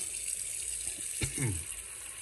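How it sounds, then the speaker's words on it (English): A kitchen or bathroom sink tap turned on, water flowing from the faucet into a slow-draining sink, a soft steady hiss with a brief gush as the flow starts, fairly quiet and without speech. "So we're going to turn the water on."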